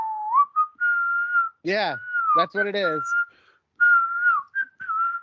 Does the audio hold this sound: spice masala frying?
no